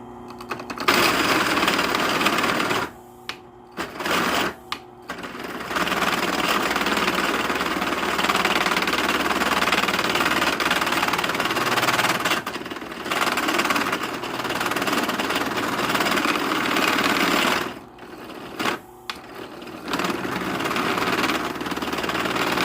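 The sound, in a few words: power drill with 1-inch drill bit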